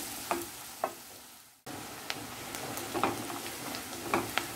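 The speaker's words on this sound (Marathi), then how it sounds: "2 मिनिटं गॅस मोठा करून कांदा चांगला परतून घेतलाय" Onion sautéing over a high flame until it browns, a steady sizzle broken by spoon taps and scrapes against the pan, a brief cut partway through, then livelier stirring, with nobody speaking.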